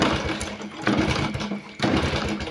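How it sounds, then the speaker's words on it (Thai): A small single-cylinder motorcycle engine is started with the key switch and cranked, giving a steady mechanical rattle and churning drone that dips briefly and resumes, close and fairly loud. "นี่นะเปิดสวิตย์กุญแจแล้วก็ทำการสตาร์ทเลย"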